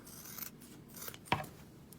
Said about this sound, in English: My scissors are not sharp.